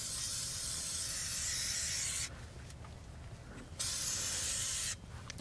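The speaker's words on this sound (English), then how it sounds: "we're going to put some fluid film around this guy" Fluid Film lubricant is sprayed around the brake hub of a Chevrolet Sonic, three close aerosol bursts of bright hissing, the first long and the others shorter, with quiet gaps between them.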